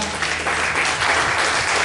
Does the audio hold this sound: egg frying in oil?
no